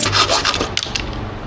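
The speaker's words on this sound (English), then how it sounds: "The reason I'm using a handsaw is because the angle grinder is gonna heat this and we don't want to heat the plastic." A handsaw rasps through a plastic skid plate on a V-Strom 800DE motorcycle, short close scraping strokes in a quick back-and-forth rhythm, loud and without talking.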